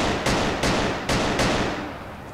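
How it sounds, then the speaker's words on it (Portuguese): Gunfire in the online first-person shooter Battlerush, four heavy booming shots spaced a fraction of a second apart, each with a long decaying tail, loud and alone. "Só escuto os tiros e não vejo ninguém."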